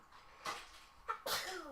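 A single sharp sneeze close by, with a brief breathy buildup before it and a faint voice trailing after.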